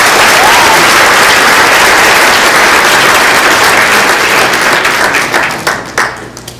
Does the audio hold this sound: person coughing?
no